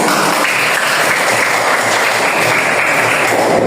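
Students in a fiqh class break into applause, a loud, dense and steady burst of clapping that fills the room at a constant level from start to finish.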